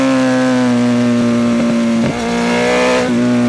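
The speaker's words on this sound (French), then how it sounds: "Oh, puis le son du 4 cylindres" A loud four-cylinder Yamaha Fazer 600 S motorcycle engine with aftermarket exhaust idles with a rich, throaty burble, briefly blipping the throttle twice; no talking.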